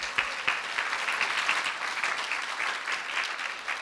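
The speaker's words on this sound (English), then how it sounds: "Let's give another round of applause" An audience applauds at a community event on plastic pollution, with steady dense clapping that is loud and close and continues without pause.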